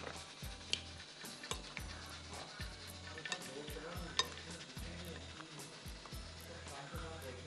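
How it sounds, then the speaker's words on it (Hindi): Fish pieces being mixed by hand with salt and seasoning for fried finger fish, a soft wet stirring and squishing that runs steadily throughout with a repeating thump pattern below it and light ticking on top. "बहुत अच्छी तरह से हल्के हाथ से आप मिक्स कर लो इसको"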